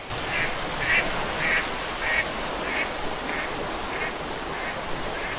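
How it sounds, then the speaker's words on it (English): A duck quacks about eight times in a steady, evenly spaced series, moderately near, over a continuous wash of background noise. "They saw a duck swimming in it."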